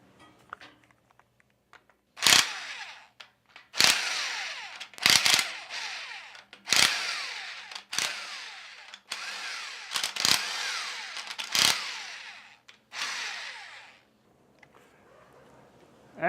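Bolts being loosened on the valve plate of a Carrier compressor, with about eight sharp, loud bursts of a power tool spaced a second or two apart over a quiet background.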